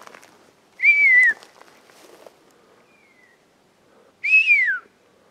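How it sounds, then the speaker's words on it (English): Two loud descending whistles, one near the start and one near the end, answering in the woods, with a faint short whistle between them and light rustling and footsteps. "They're going crazy with whistles. They're actually responding to me."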